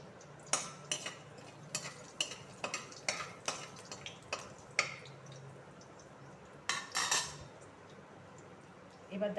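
Dried red chillies dropped into hot oil sizzle and crackle in a run of sharp, close pops and clicks, with a lower hiss beneath and a soft voice occasionally present.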